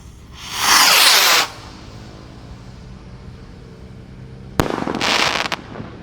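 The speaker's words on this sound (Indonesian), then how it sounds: "Roket siap meluncur." A firework rocket at a night-time Ramadan celebration gives a long rushing hiss on launch, then after a pause a sharp bang and a crackling burst lasting about a second, loud and close with no talk.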